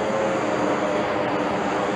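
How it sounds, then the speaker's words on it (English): An airplane crossing the night sky overhead, a steady broad engine roar that holds constant and loud for the whole stretch, with no voices over it. "that's a beautiful airplane"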